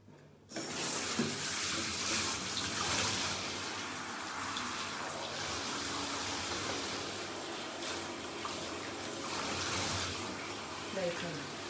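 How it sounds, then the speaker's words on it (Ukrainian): Running water pours steadily from a tap while a pet's paws are washed, starting abruptly and continuing close and loud, with a voice speaking faintly underneath. "Ну, лапи теж треба мити, Джесіка."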